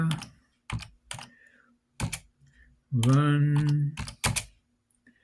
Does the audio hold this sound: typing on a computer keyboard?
yes